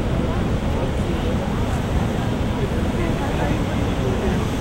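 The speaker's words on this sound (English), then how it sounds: "Just a bunch of water going over a big cliff." A big waterfall pours over a high cliff, producing a dense, steady roar of rushing water that stays constant throughout, with a faint voice buried beneath it.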